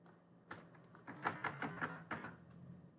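Fingers type on a computer keyboard up close, with a quick run of crisp key clicks that come in short bursts against a quiet background.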